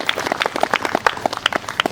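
Congregation at a Christian prayer meeting clapping for Jesus, a brief burst of quick, uneven hand claps close by, with no talk over it.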